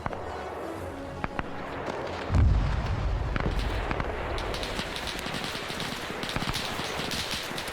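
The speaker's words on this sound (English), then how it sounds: "I don't think that tank should be firing its main cannon" A tank's main cannon in the Arma 3 game, set in a World War Two Italians-versus-Russians battle, lets off one loud, booming shot that trails off, with continuous crackling gunfire and distant explosions around it.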